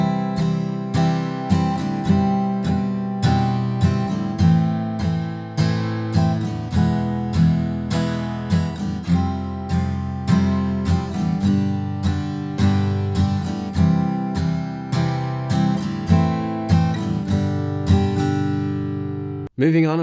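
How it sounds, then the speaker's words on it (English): An acoustic guitar plays the verse chord progression of a song with steady, bright strumming and quick chord changes, continuous and close, with no voice. "That's it for the verse chord progression, and it will sound like this all together."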